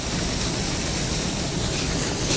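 Waterfall heard as a steady, dense broadband rush of falling water, constant and loud with no breaks or voices.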